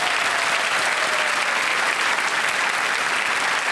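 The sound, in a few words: studio audience applause on KBC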